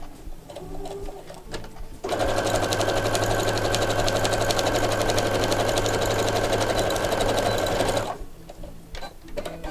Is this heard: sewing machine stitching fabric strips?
yes